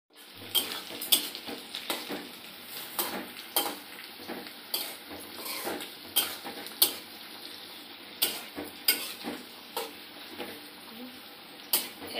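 Chopped capsicum sizzles softly in a frying pan while a utensil stirs it, giving a steady low fry broken by frequent sharp scrapes and clinks of the spoon against the metal.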